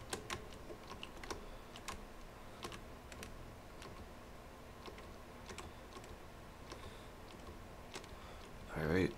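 A computer keyboard being typed on, heard as scattered, fairly quiet key clicks and taps in irregular bursts over low background noise, with a brief louder sound at the very end.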